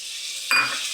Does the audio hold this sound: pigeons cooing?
no